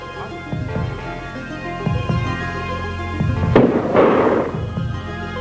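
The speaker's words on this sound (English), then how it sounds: "and pyrotechnics, the use of noise-making devices" Pyrotechnic bird-scaring noise devices fire several sharp bangs and pops at irregular intervals, one louder crackling burst near the middle, over a steady low hum.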